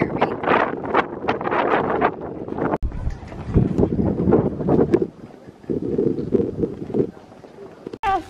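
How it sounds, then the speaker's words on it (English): Steady wind buffeting a microphone outdoors in Arizona with a constant rumbling roar, loud and close throughout, with a voice talking over it. "It's very windy, so I don't know if you can even hear me."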